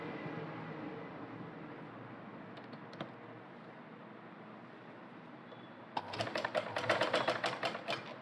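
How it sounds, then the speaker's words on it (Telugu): A sewing machine stitching folded cloth pieces for tassels starts up near the end, a quick rattling burst of stitches after a long stretch of quiet room noise. "ఇప్పుడు ఇటు సైడ్ కూడా కొంచెం క్లాత్ని ఇలా ఫోల్డ్ చేసుకొని స్టిచ్చింగ్ చేసుకోవాలి"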